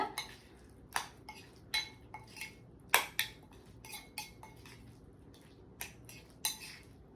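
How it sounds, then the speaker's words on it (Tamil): A spoon stirs mashed banana with honey in a bowl, producing soft, irregular clinks and scrapes against the dish, close and fairly quiet, with no talking. "ஸோ அதனால நல்லா இந்த மாதிரி கிண்டி விட்டுக்கோங்க"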